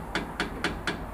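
A hammer strikes a car part during a driveshaft repair for hard gear shifting: four sharp, evenly spaced metallic blows, close and loud, with no talking.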